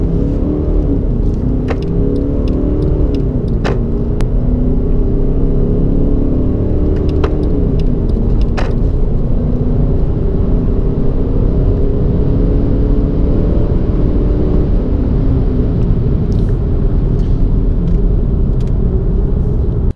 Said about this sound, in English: Let's put this car in sport mode.